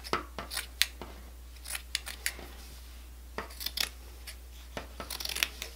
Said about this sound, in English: now it's time to cut our monk's cloth